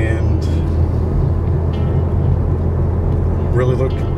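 A Hyundai Veloster N on its factory exhaust gives a steady, deep drone throughout the drive, with a voice faintly talking over it.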